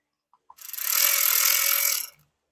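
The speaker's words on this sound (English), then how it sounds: "Get everything started, and then we'll hit it with the ratchet." A ratchet tightens screws on a KLX 110 pit bike engine in one continuous rattling whir of about one and a half seconds, preceded by two faint clicks, close and alone.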